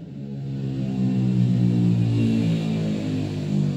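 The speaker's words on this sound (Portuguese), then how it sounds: "a moto passando" A motorcycle engine drones steadily past at mid pitch, rising slightly in the middle and then easing off, heard alone with no talk over it.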